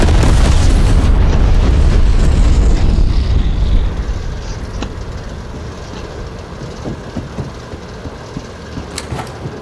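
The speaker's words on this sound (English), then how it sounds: "Sitrep, napalm strike inbound." Napalm strike explosions in Call of Duty Black Ops Cold War open as a loud, heavy roar that slowly fades to a quieter crackling rumble, with a few faint sharp pops near the end.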